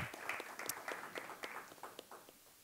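Faint, thin scattered clapping from a small audience at a road safety index awards ceremony, honouring the Liepāja third place team, heard at a distance with no talk over it.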